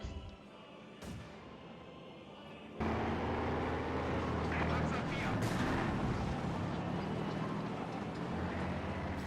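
Heavy machine-gun and mortar fire in a Company of Heroes 2 match, starting with a faint distant thump before a loud sustained roar of gunfire and explosions that fills the rest of the passage, with a commentator talking over it.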